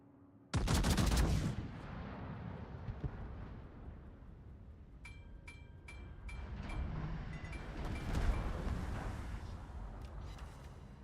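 Naval gunfire in the World of Warships video game opens with one loud, booming cannon blast, then a long rumbling roar of distant shelling and battle noise, with faint high electronic tones in the mix.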